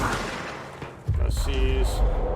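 Spinning gun turret in the game Control opens fire, a sudden loud burst of rapid shots kicking in about a second in and continuing steadily to the end over a game background, with a player talking partway through.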